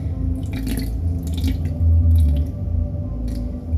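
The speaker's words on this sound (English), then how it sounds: "we're mixing this together? Very slowly. I'm gonna keep stirring." A borax slime mixture being stirred slowly in a cup gives soft, wet squishing and dripping sounds in irregular bursts, close and fairly loud over a low background rumble, with no speech.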